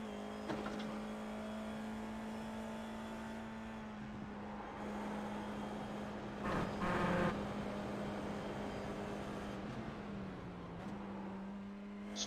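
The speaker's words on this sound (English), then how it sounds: "Super late on the downshifts." An IR-04 race car in the iRacing video game at Fuji holds a steady engine drone, then blips and drops pitch as it downshifts, with a brief rise midway.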